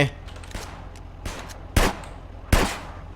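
Gunfire in Grand Theft Auto from a shooter firing from behind: a handful of sharp, spaced shots, the last two loudest and close, over a low background rumble.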